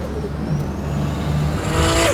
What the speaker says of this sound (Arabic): صوت التيربو